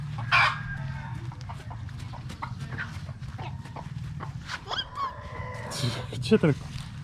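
Chickens cluck and squawk nearby at scattered moments on a rainy day in the Philippines, with people talking over a low background hum.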